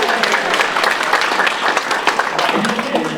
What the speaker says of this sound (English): So you guys give yourself a round of applause.